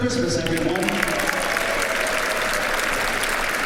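A church congregation in a sanctuary applauds a Christmas tuba ensemble, a steady dense wash of clapping that runs unbroken throughout.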